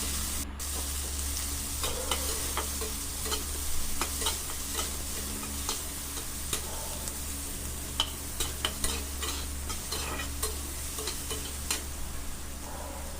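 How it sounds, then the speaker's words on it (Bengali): Chopped onion stirred in hot oil makes a constant low sizzle, with a spoon scraping and clicking against the pan at irregular intervals, close and fairly quiet. "পেঁয়াজটা দিয়ে ভালো করে আমি কয়েক সেকেন্ড নেড়ে চেড়ে নেব।"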